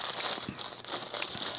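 A small plastic bag around a Godox mini camera flash crinkles and rustles close up as it is handled during unboxing, a brief burst of crisp, papery crackling.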